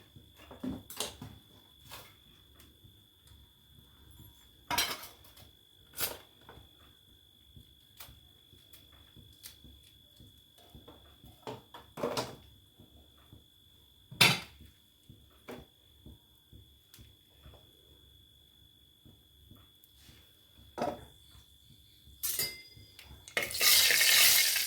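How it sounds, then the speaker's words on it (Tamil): Mustard seeds crackle and pop in hot oil in a pan in an Indian village kitchen, a run of sharp, scattered pops at an irregular pace over a quiet background, the bursts growing denser and louder near the end. "கடுகு பொரிஞ்சிருச்சு"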